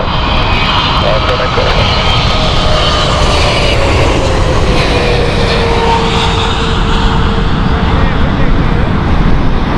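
A Qatar Airways jet roars steadily on Heathrow's runway 27 left, a loud, broad engine rush with a faint whining tone sliding downward, while a voice talks over it.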